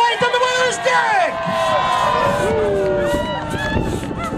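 Crowd cheering, whooping and shouting for competitors in a hand-sawing competition at a timber and woodturning event in Sisters, Oregon, loud, continuous and close, with voices layered throughout.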